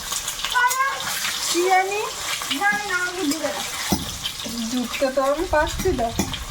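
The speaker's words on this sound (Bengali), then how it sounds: "কড়াইতে তেল দিয়েছি এখন লবণ হলুদ মাখিয়ে ডিমগুলো দিয়ে দেবো" Steady sizzling of eggs coated in salt and turmeric frying in hot oil in a wok, a bright hiss running throughout while a person talks over it.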